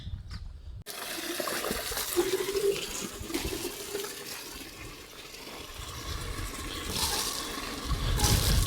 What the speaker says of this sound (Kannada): ಸೊ ಇದಕ್ಕೆ ಸ್ವಲ್ಪ ನೀರು ಹಾಕೋಣ